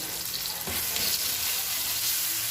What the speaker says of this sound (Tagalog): Pagluto na yung ating kamatis, lagyan na natin siya ng water.